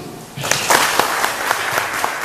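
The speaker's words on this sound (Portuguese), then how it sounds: "Eu pediria a todos um aplauso para a humanidade que reage tão bem a tudo isso." Applause from an audience at a gratitude-themed talk, a dense wash of clapping that swells after a brief pause and carries steadily through, with a few sharper individual claps standing out.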